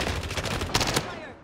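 Rapid automatic gunfire from an LC-10 submachine gun in Call of Duty Warzone, a dense burst of close shots with a louder cluster near the end, then fading.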